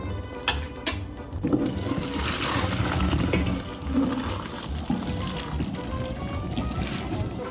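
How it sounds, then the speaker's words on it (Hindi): Hot water pours off freshly cooked spaghetti as it is drained in a kitchen, a splashing, gurgling flow with a few sharp clatters at the start and faint talk underneath. "पास्ता भी रेडी हो चुका है, इसको निकाल लेते हैं इसका पानी।"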